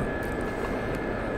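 Helicopter in flight in the DCS flight simulator game, an SA342 Gazelle or UH-1 Huey, giving a steady, loud, unbroken engine and rotor drone that stays constant throughout.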